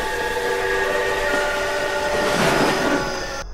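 A train in a horror video game with a Pennywise clown rumbles loudly and continuously while a sustained horn-like tone drones over it, swelling briefly near the end before cutting off.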